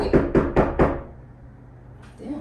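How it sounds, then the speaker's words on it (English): Four sharp, evenly spaced knocks on a door, loud and close, followed by a quiet pause and a faint muffled sound at the end. "Oh, why did it knock like that?"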